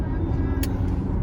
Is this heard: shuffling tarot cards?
no